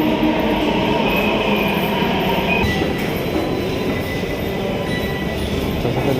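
Busy Botanical Garden metro station in Delhi, with a steady loud rumble of rail cars and wheel noise filling the space, a faint squeal rising partway through, and no voices.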